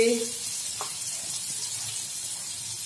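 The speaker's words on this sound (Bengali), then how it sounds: "একটু কাঁচা লঙ্কা দিয়ে দিচ্ছি, নেড়ে দিচ্ছি" Green chili stirred in oil in a pan while making atta Maggi, a faint steady hiss with a brief voice at the start and a single light utensil tap.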